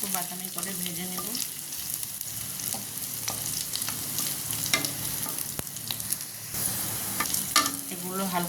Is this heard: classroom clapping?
no